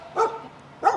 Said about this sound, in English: Having some neighborhood dogs bark at us.